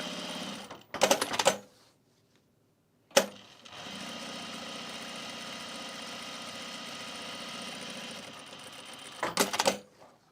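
A sewing machine stitches a thick travel bag handle in a steady, close whirring run of several seconds, framed by short bursts of stitching before and after a pause.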